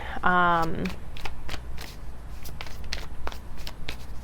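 Tarot cards being shuffled, giving a run of dry, rapid clicks and riffles close by, with a brief voice at the start.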